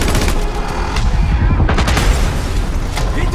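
Gunfire crackles through a French-dubbed action film trailer, dense loud bursts of shots and booms layered with music and effects, with voices faintly under the barrage.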